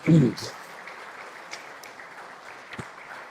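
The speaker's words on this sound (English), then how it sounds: "Let's welcome him with a round of applause" Applause from a conference audience welcoming Dr. Rajendra Singh to the dais at an event on making India water resilient: a dense, steady wash of clapping at moderate distance after a brief low thump at the start.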